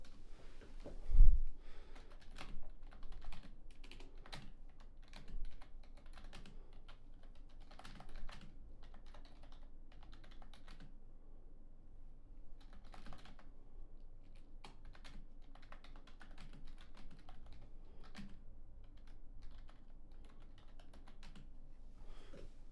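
A computer keyboard clatters with irregular bursts of typing while notes are jotted down, close but quiet, with a few heavier thumps early on and no talking.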